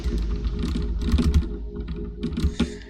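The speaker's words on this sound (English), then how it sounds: "To spam the spacebar." A computer keyboard's spacebar is tapped rapidly and repeatedly while playing the clicker game SPACEPLAN, producing a dense, uneven stream of close plastic key clicks with no talking.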